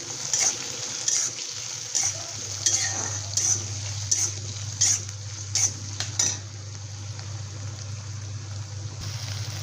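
Tomatoes and onion fry quietly in a pan for a capsicum curry, with a low steady sizzle under a series of about eight sharp metallic scrapes as a spoon stirs, then the stirring stops and only the faint sizzle continues.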